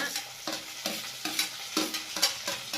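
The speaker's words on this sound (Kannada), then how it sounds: "ಇವಾಗ ಅಮ್ಮ ಟೊಮೆಟೊ ಹಾಕೊತಿದ್ದಾರೆ" Tomatoes frying in a pan for tomato curry are stirred in quick, regular strokes, each scrape rising over a soft continuous sizzle, close by and without speech.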